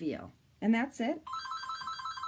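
A telephone rings in the background in a craft room, a steady electronic trill following a few spoken words, continuing alone near the end.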